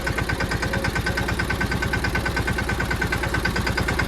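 A tractor engine chugs in a farm field with a fast, even putt-putt knock, a loud close rhythmic thumping that stays steady from start to finish with no voices.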